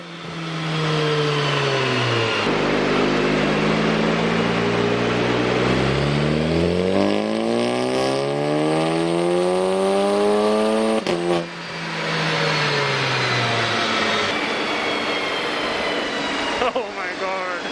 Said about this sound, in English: now we are ready to do a dyno run after the tune